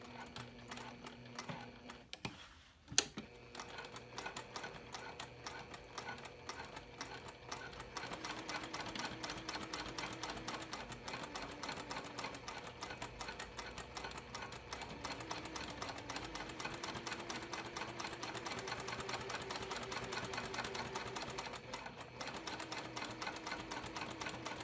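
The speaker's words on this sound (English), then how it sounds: "And this is a Juki TL2010q," A Juki TL2010q sewing machine with a microtex needle stitching cork, running in a steady rapid rhythmic clatter for most of the stretch after a brief handling knock, quiet and close.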